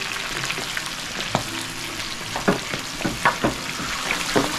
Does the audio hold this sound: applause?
no